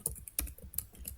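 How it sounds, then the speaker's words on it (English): Quick typing on a computer keyboard while searching an online shop, a brisk run of light clicks and taps heard close and alone. "if I could type"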